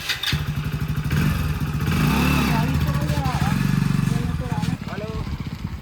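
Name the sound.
motorcycle engine running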